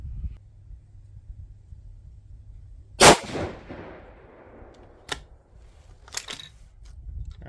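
Single sharp 6.5 Creedmoor rifle shot with a 130 ELD-M load, a loud crack with a brief echoing tail, followed by lighter metallic clicks of the bolt and brass.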